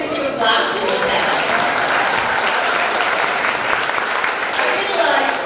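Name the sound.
audience clapping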